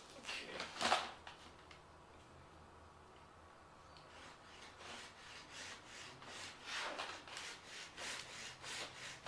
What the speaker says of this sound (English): So let's get to sawing this thing off.